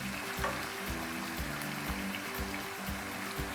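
Beef frying with Kashmiri chili in a handi pot gives a steady, soft sizzle with faint bubbling underneath, close but quiet, with no voices.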